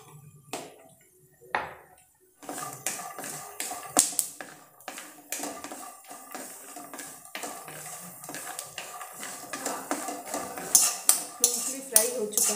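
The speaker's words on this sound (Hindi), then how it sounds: "चम्मच से चला देंगे इसे।" A metal spoon stirring poha with fried peanuts in a pan gives close, busy clinks and scrapes against the metal. The scraping comes in uneven bursts that grow denser and louder toward the end, with no talk.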